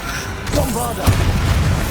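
A Bombarda blasting spell from Hogwarts Legacy goes off as one deep, loud boom with a rumbling low tail, mixed with game effects and a voice calling out.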